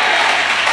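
A congregation at a Christian prayer meeting claps hands, a dense burst of loud applause filling the whole short moment.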